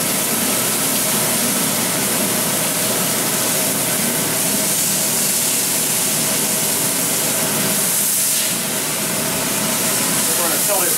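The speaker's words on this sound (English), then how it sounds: "We'll get this back side seared." Prime rib seared on its back side in a hot pan, giving a loud, steady broadband sizzle that runs unbroken throughout, close up with no pauses.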